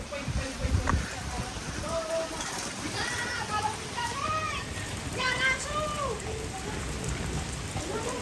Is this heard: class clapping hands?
no